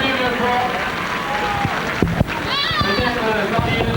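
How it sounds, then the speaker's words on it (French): A crowd at a 1990 football match in Limoux applauds young beginner players, steady clapping and cheering running throughout beneath a loud announcer's voice. "on les applaudit aussi, nos amis, les jeunes débutants et poussins de l'enfance limoubienne"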